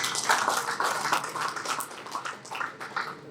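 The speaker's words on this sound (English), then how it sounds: "If you can give them a good round of applause, please." Audience applause at a college event, a steady dense wash of clapping from a crowd lasting the whole moment, moderately loud with no talk over it.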